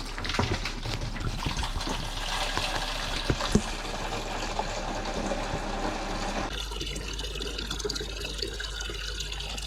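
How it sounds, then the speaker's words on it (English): A jug being filled with water for dish washing from a tap aboard a boat, a steady rushing flow that changes pitch and thins partway through as the stream is slowed. "now we're going to fill our jug of water"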